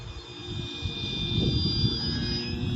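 An XFLY Tasman 1500mm RC plane flies overhead on a gusty, windy day, its steady electric motor whine holding at moderate distance over a rumbling wash of wind noise, with no voices.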